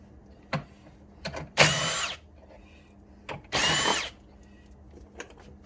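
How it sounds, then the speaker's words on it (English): Power tool driving out 10mm screws on the intake of a 2008-2013 BMW M3 E90/E92/E93, heard as two loud whirring bursts of about half a second each, with small clicks and handling knocks between, no talking. "now you're going to want to take out the two 10mm screws on the intake"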